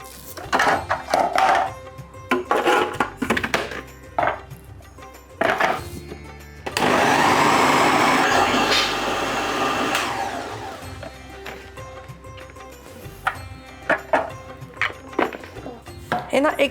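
A mixer grinder whirs loudly through a single pulse of several seconds as it blends a healthy Diwali laddu mixture. Clicks and handling noises come before and after, and someone talks over parts of it.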